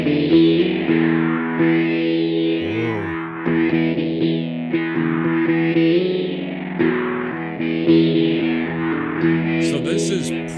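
Guitar run through a Phred Instruments Dockstar delay pedal on preset 69, heavily effected and distorted with chorus-like wash and repeats, playing continuously and loud with long trailing echoes, no voice.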